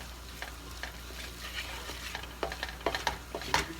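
A roux being stirred as it cooks in a pan for smothered pork chops, steady soft frying sizzle with repeated scraping spoon strokes along the bottom, growing more pronounced toward the end, no talking.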